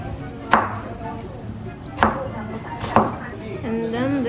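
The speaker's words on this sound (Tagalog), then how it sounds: "ito na naman tayo sa paghiwa ng sibuyas" A knife chops through a halved white onion on a cutting board, three separate sharp, close thuds spaced over a few seconds, with a faint voice murmuring briefly near the end.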